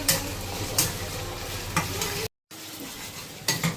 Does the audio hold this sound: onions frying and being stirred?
yes